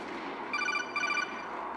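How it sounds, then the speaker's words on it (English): Codec call ringing in the video game Metal Gear Solid 4: Guns of the Patriots, two quick bursts of high electronic trilling beeps over faint background noise. "You better take that call."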